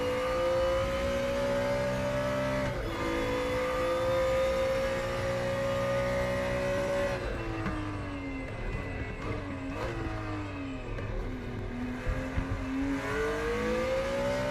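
A BMW M1 race car engine in the video game RaceRoom Racing Experience, at the Red Bull Ring, whines at high pitch, holding steady, then dipping and rising again as it shifts and revs, with no talking.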